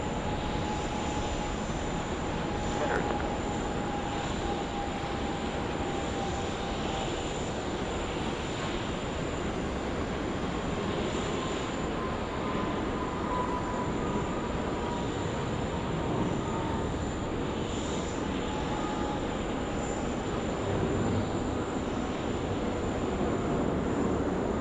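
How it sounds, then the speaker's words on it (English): A Boeing 777 airliner rolls down the runway at Sydney Airport, producing a long, even engine roar with a faint whine on top that stays steady and moderately distant throughout. "Nice long roll through of the Kalita 777 VH-OQB livery."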